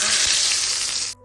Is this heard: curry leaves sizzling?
yes